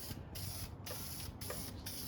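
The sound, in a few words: spray can spraying paint on RC car body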